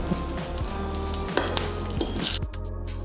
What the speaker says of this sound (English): in a pan, add some vegetable oil. Put your sausages in.